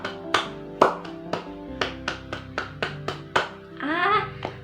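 Schoolchildren in a primary classroom clap a rhythmic 'tepuk semangat' cheer, a run of about ten sharp, evenly spaced claps ending in a brief cheer of voices.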